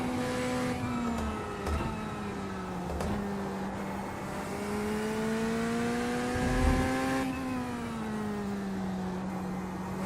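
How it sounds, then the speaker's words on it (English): A GT3 race car engine in the iRacing sim heard from outside, a steady loud drone with shifting pitch as it accelerates and lifts, brief gear-change dips, sustained throughout with no talk. "Car doesn't sound so good inside, but damn, I think it sounds incredible outside."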